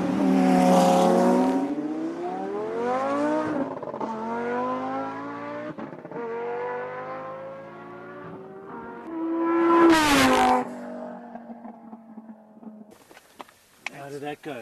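A tuned Lamborghini Gallardo supercar accelerates hard on a speed run, its loud engine climbing through rising gear pulls with brief shifts and a sharp roar near the end, then fading as the run closes.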